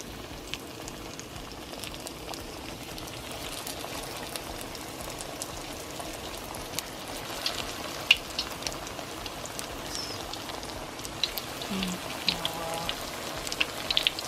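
Spring rolls crackle and sizzle in very hot oil, a steady dense frying hiss with scattered sharp pops, close by and alone.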